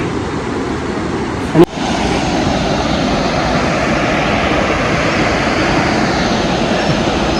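Rushing water at a waterfall on a mountain route from Sachen to Tshoka, a loud steady broadband roar close by, interrupted by one brief knock near the start.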